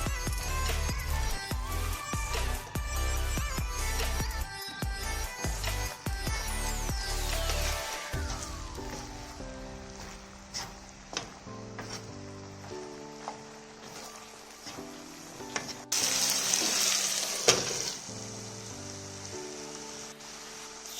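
Water poured over leftover rice with cinnamon and black pepper in a hot pan sends up a short, loud hiss of sizzling steam late on, heard alongside steady background music.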